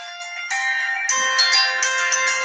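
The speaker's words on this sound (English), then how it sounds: "My phone ringing." A mobile phone ringtone plays close by, a steady, bright electronic melody that repeats, sounding alone with no talking.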